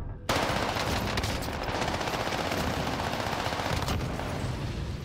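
Sustained automatic fire from a 70-round weapon in Warzone, a dense, continuous rattle of rapid shots that runs nearly the whole time at steady loudness after a brief quiet start.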